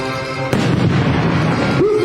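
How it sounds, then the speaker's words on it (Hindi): Explosives blow open a hospital door during a mock counter-terror drill, one sudden heavy boom cutting through steady background noise, followed by a rumbling decay. "अस्पताल के दरवाजे को खास तरीके से विस्फोटक लगाकर उड़ा दिया गया।"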